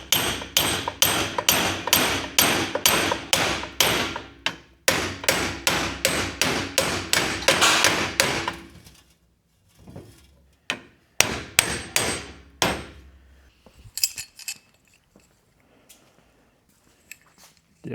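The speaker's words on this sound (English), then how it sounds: "you can usually take a hammer and whack it out of there." A hammer whacking a stuck part with rollers out of a mechanical assembly, giving a long series of loud, close, rapid metallic blows, then a pause and a few more scattered strikes.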